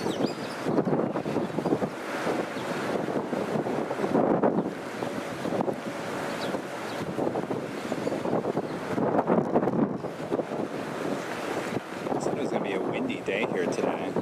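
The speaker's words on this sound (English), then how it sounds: "It's fairly windy, windier than yesterday." Wind gusts across the microphone at Sint Maarten airport by the sea, a continuous rushing roar that swells and fades, with surf faintly mixed in underneath.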